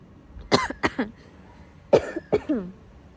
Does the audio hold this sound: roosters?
no